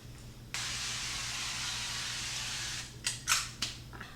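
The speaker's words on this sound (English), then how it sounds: "you're just going to lightly spray a 9x13 baking dish" Cooking spray hisses onto a 9x13 baking dish in a home kitchen: one steady spray of about two and a half seconds, then a few short clicks and bursts as the can is handled, close and fairly quiet.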